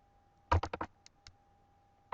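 Calculator keys being pressed while entering numbers, a quick cluster of four or five close plastic clicks followed by two isolated taps over near silence.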